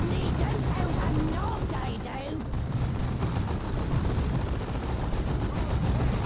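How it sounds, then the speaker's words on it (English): Heavy sustained gunfire pours onto a Tactical Marine squad in the Dawn of War 2 Elite mod, a dense continuous barrage of overlapping shots and blasts with a low rumble, steady and loud throughout. "A lot of fire coming out on that Tactical Marine squad."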